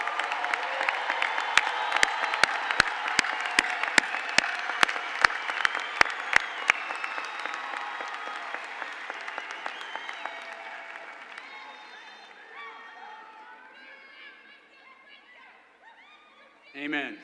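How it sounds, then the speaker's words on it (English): A large audience at a college graduation ceremony applauds loudly with sustained clapping, then the applause gradually thins and fades out, with a brief noise at the very end. "let's have another round of applause for our class of"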